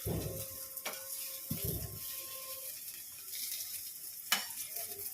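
Eggplant pieces fry in oil with a faint, soft sizzle, broken by a few sharp clinks and knocks of a utensil against the pan, no speech.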